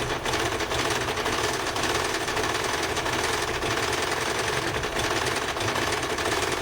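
A domestic sewing machine runs continuously at speed while attaching elastic bias binding, a close, loud, rapid needle rattle with no pauses.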